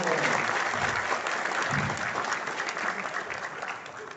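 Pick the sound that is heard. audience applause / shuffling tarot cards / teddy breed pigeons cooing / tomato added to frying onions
audience applause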